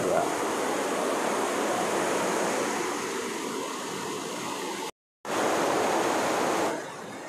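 Water rushes steadily over a dam that drives an ubrug water-powered machine, a dense loud roar with a brief dropout near the end before the flow resumes.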